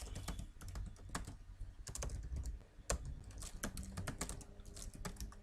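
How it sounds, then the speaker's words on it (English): Steady clicking keystrokes on a computer keyboard, a dense run of close taps with a few louder key hits, quiet and without speech. "Then I will type RHK"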